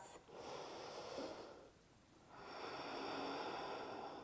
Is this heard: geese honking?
no